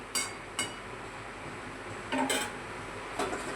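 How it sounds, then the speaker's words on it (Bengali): A lid set on a cooking pot of coconut chicken soup with ash gourd, several short metallic clinks and clatters, fairly close, with pauses between them. "আবার 5 মিনিটের জন্য ঢাকা দিয়ে দিচ্ছি।"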